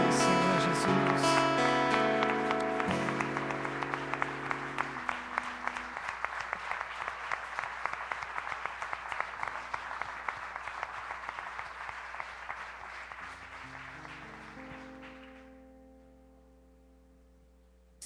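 A congregation at a Saturday deliverance church service claps loudly and steadily over sustained music, the applause gradually thinning and fading out near the end.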